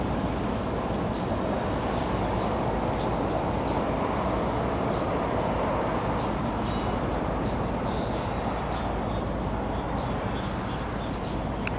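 A train passing close by during a stop on an EBMX V3 Ultra Bee electric bike ride: a steady, loud broadband rumble with rolling wheel-on-rail roar held at constant strength throughout, with no voices.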